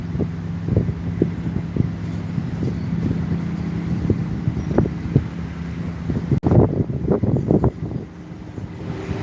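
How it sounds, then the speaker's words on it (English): Gusty wind blows outdoors among trees, rustling and buffeting close to the microphone in uneven bursts, with a sharp flap or knock partway through. "It is windy out here"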